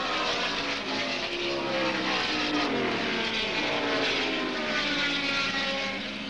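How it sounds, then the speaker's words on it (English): 5-litre race cars at the 1971 Australian Grand Prix roar through a fast section of the circuit, a loud, continuous engine wail with rising and falling pitch as they blast past, no voices. "all the 5-litre motor cars are very, very fast through that section of the course"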